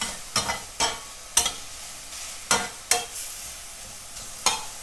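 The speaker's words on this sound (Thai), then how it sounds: "คั่วเขาให้เหลืองก่อนนะคะ" Pork belly stir-frying in its own rendered fat over medium heat, about seven sharp scraping strokes of a spatula spaced irregularly over a soft background sizzle, close and unaccompanied by voices.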